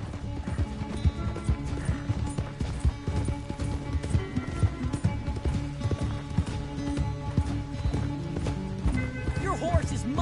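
A horse gallops in Red Dead Redemption 2: rapid, rhythmic hoofbeats pound steadily and up close, mixed with in-game ambience and a voice talking over the ride.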